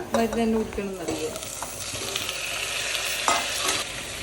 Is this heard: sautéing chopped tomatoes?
yes